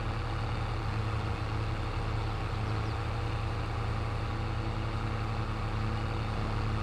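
A tractor engine in Farming Simulator 22 runs at a constant, steady drone with a deep low hum, unchanging and continuous over several seconds, with no speech.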